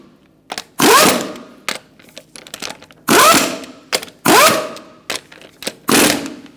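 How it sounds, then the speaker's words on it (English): Lug nuts on a 2005-2010 Chrysler 300 front wheel being tightened with a 21mm socket on a powered wrench: several loud, rattling bursts of about half a second each, with quieter clicks and handling noises in the gaps. "Using a 21mm socket, we're going to tighten up our lug nuts."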